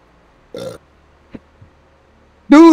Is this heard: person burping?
yes